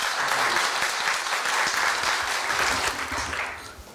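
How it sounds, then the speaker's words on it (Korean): Warm, sustained applause from an audience at a university staff retirement ceremony welcoming a retiring facilities staff member, a dense, even roar of many hands clapping close by that tapers off slightly at the end. "강재희 차장님을 큰 박수로 맞아주시기 바랍니다"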